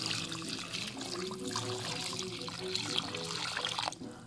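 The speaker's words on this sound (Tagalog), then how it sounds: "lagyan natin ng tubig na" Water pours into a cooking pot for sinigang soup, a steady splashing trickle that runs for a few seconds before it cuts off, with a voice talking over it.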